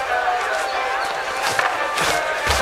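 A bustling crowd fills a city street in Assassin's Creed Mirage, a steady murmur of many voices with footsteps and scattered clatter, continuous and moderately loud throughout.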